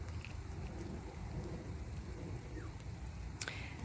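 Steady rain falls outdoors by a road, a constant dense hiss with a low rumble, and a faint chirp or squeak cuts through near the end.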